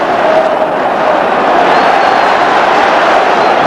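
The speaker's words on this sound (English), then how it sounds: "Draws applause from the home fans" Home fans applauding at a 1995–96 Rangers versus Celtic football match, a steady wash of stadium crowd noise and clapping, loud and continuous, with faint commentary underneath.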